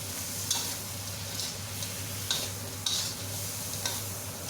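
Tiger prawns are stirred in an oiled wok over a steady sizzle, with a few sharp scraping strokes of the spatula against the metal at irregular intervals.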